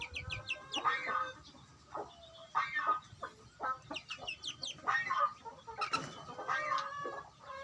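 Chickens cluck in a busy, overlapping series of short calls, close by and fairly loud, with no break over the whole stretch.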